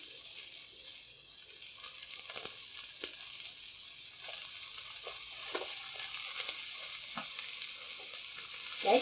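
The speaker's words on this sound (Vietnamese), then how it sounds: "Rồi mình sẽ cho giá vô." Bean sprouts stir-frying in a pan for a vegetarian tofu dish, with a steady bright sizzle and occasional soft stirring clatters, close and continuous.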